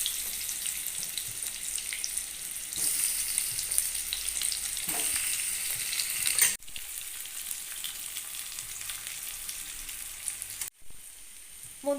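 Potatoes deep-fry in a wok of oil with a little salt for curd potato, a steady dense sizzle and crackle running loud throughout with two abrupt breaks, no voices.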